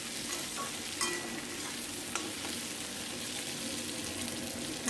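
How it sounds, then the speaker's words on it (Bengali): Tomato sautéing in a pan for khichuri, a steady broadband sizzle with a few soft stirring clicks, close and continuous with no talk. "দেখতে পাচ্ছ টমেটোটা তো কষিয়ে নিচ্ছি"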